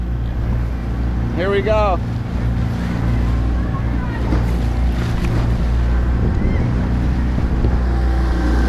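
Motorboat engine droning loudly and steadily through a rough canal crossing of stacked boat wakes, with wind buffeting the microphone and a brief spoken remark early on.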